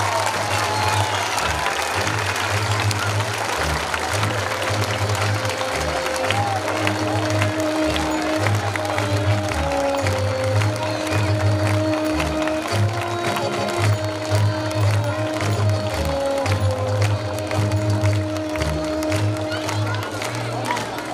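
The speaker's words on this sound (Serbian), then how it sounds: "Molim vas, pozdravite ih velikim aplauzom." A festival audience gives a large, sustained round of applause for a folk dance ensemble on stage, the clapping dense and continuous over rhythmic drum-led folk music heard throughout.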